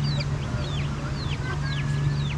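Chickens near a beach cluck and chirp in quick repeated calls over a constant low hum of wind or surf.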